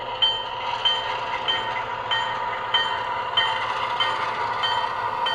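A DCC model train locomotive running on track powered by a Pevono PS305 DC supply, a steady close mechanical whir with faint rhythmic clicks, no voices.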